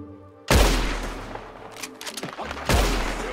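Two loud, close rifle shots from a lever-action carbine repeater in Red Dead Redemption 2, each a sharp blast with a long rumbling decay, separated by scattered fainter clatter.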